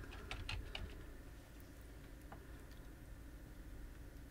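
Quiet keystrokes on a computer keyboard, a quick cluster of clicks at the start and a few scattered taps afterward, faint and close under a low background hum.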